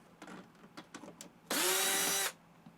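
A power drill removes screws inside an RV: a few small clicks and taps, then one loud, close whir of under a second that stops abruptly.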